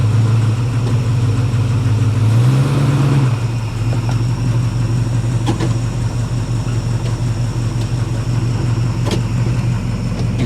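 The engine of a 1973 Plymouth Scamp flood car drones steadily and close as the car starts moving, with a brief rise in pitch before it settles into an even, continuous rumble.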